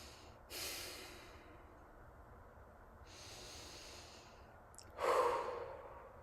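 Slow, deep breaths come in three separate airy rushes. They are close and soft, with quiet gaps between them, and the last one is the strongest. They sound like a relaxation exercise in a calm room, with no talking.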